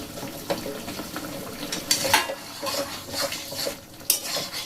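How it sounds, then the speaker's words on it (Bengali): Eggplant pieces added into simmering spiced curry gravy in a pan, with clattering spoon and pot clinks, stirring scrapes and light bubbling, close and busy with no talk. "এখন আমি দিয়ে দেবো বেগুনগুলো"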